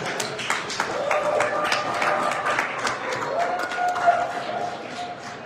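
An audience applauds at a business kickoff event, with steady dense clapping mixed with crowd murmur and a voice speaking over it.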